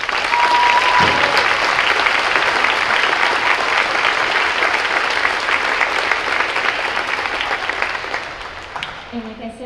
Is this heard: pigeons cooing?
no